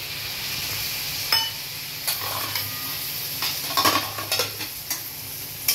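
A spoon stirs a spice masala of turmeric, cumin, coriander powder and Kashmiri chilli frying in a pan for dhaba-style chicken curry, with soft sizzling and irregular scraping and clinking against the metal.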